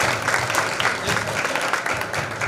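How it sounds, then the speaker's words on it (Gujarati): Steady, enthusiastic applause from an audience at a religious full-moon celebration gathering honouring Mahant Shri Tulsidas Maharaj, dense clapping sustained throughout at fairly close range without pause. "જોરદાર તાળીઓથી વધાવો."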